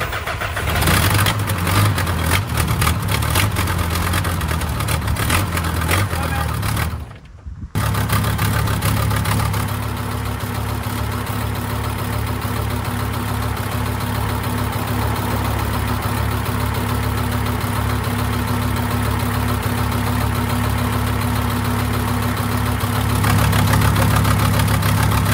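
A car engine idles steadily and smoothly after repairs to its hoses, radiator and EGR, a continuous close mechanical hum with a brief dropout near the start, no voices.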